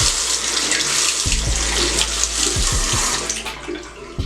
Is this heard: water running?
yes